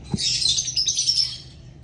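Lovebirds kept for breeding give a brief burst of high, shrill chirping that sounds close and lasts under two seconds, with a soft low thump at the start.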